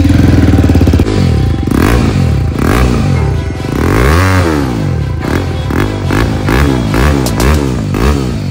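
A BMW G310 RR motorcycle with a loud, throaty modified full exhaust system revs repeatedly up close, each blip rising and falling in quick succession.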